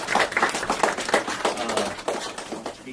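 An audience claps for a department chair at an academic hip hop activism event, a dense, steady round of applause from a room of people, fairly close and continuous throughout.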